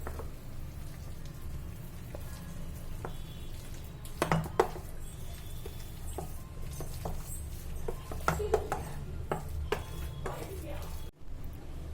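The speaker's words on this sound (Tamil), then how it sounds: "நான் ஒரு தயிர் கடையின்னு மத்து வச்சு தான் மத்தின் குச்சியை வச்சு தான் கிண்ட போகிறேன்" A wooden churn stick stirring boiled tapioca in a cooking pot: soft mushy sloshing with occasional clunks and scrapes against the pot, close by over a low steady background hum.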